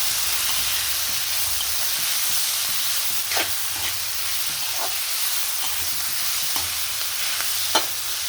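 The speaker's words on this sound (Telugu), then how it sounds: "ఇలా కొంచెము ఫ్రై అయితే సరిపోతుంది" Ivy gourd pieces fry in a pan with tamarind and coriander. A steady sizzle runs throughout, broken by several sharp spatula scrapes at uneven intervals, with no voices.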